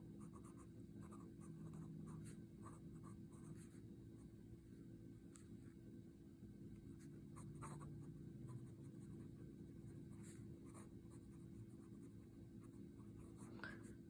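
A TWSBI Go fountain pen with a fine stainless steel nib scratching across paper, faint and steady with small scraping strokes under a constant low background hum, no talking.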